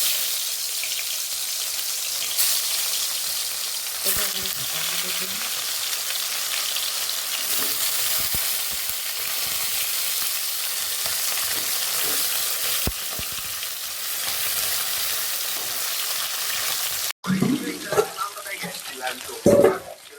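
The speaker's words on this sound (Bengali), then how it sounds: "তেলটা গরম হয়ে গেছে, এবার মাছটা দিয়ে দেবো" Snakehead fish sizzles in hot oil in a home kitchen wok, a steady dense crackle throughout, then a brief clatter and sharper spitting near the end.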